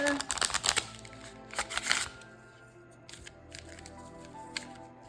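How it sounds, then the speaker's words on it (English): Tarot cards riffle and slap together in quick bursts as the deck is shuffled close by, then quieter card handling follows. "I'm going to actually shuffle this deck next"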